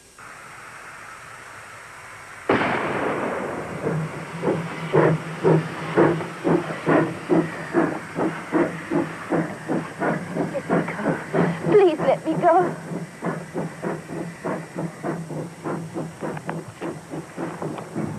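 A steam train starts moving: a burst of hiss, then rhythmic chuffing that steadily quickens, with a brief whistle-like squeal and a voice speaking over it.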